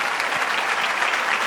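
Guests at a 60th birthday celebration break into steady, dense applause, a continuous wash of many hands clapping at close range with no pauses.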